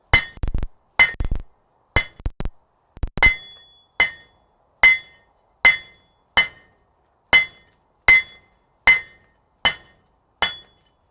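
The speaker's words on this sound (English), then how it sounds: "rounding side of my hammer to be more aggressive about it" A blacksmith's hammer strikes hot metal on the horn of an anvil in a smithy, first in quick doubled blows, then a steady series of about a dozen ringing, metallic clanks, evenly spaced and close.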